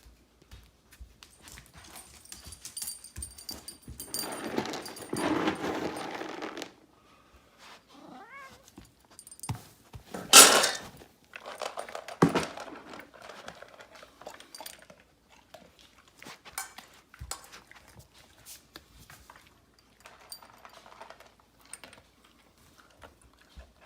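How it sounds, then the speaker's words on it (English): A cat pulled away from a dog's food bowl indoors, letting out loud, drawn-out protesting yowls and meows with bursts of scuffling, close by and with no talking. "I did catch Dash the cat trying to eat Sandy's food, and you'll see I had to pull him back"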